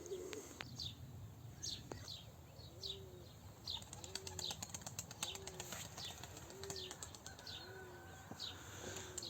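Soft, repeated pigeon coos drift in at a steady rhythm alongside faint chirps and occasional wing flaps, set against a constant outdoor background hum.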